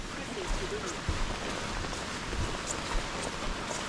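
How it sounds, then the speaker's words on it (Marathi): Steady heavy rain hisses all around on the way to Kondeshwar Temple near Pune, a dense wash of sound with occasional louder drops, and a voice speaks briefly beneath it. "भाई पाऊस जोराचा पडतोय"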